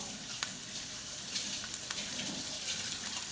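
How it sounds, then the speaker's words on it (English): Tap water running into a kitchen sink to rinse out oil, a steady close hiss of flowing water with a few small splashes and clicks. "Let me rinse my sink out, guys, from the oil."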